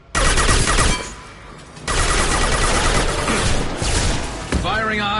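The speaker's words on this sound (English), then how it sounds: "Firing a high-impact shot." Rapid bursts of heavy gunfire from a high-impact weapon in the video game Mass Effect, loud and dense, with a brief pause and then another sustained volley before a voice cuts in at the end.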